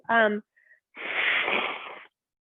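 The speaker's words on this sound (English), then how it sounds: "I'm just gonna blow my nose, having a bit of sinus" A person with sinus congestion blows their nose during a yoga class: a short spoken remark first, then a single sustained breathy honk of about one second, close and fairly quiet.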